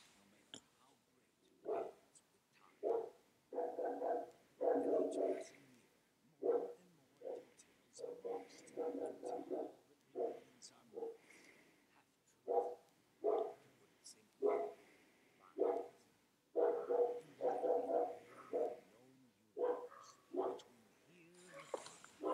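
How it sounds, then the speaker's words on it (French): A dog barks repeatedly in short, rhythmic bursts nearby, recorded indoors during a Minecraft: Story Mode play session. "Désolé pour le chien qui aboie."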